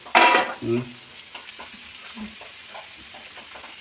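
Stirring jackfruit thoran (idichakka, tender jackfruit) with masala in a pan, made without coconut: a loud burst of scraping and sizzle at the start, then softer intermittent stirring scrapes over a low frying hiss.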